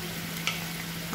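Boal (wallago attu) fish pieces going into hot oil in a pan, giving a steady, close sizzle with a brief louder hiss partway through and faint stirring.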